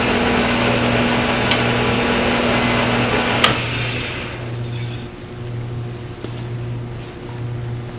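A wood lathe spins a pen blank between metal bushings while a skew chisel cuts, a steady whirring hum with tonal motor whine, a sharp tick midway, then a quieter pulsing drone as the cut eases.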